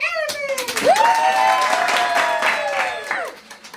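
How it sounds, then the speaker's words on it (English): Audience applause at a puppet show, a steady patter of clapping running under loud sliding, tonal voice sounds, with a voice speaking over the claps. "Give up a round of applause for the elephant!"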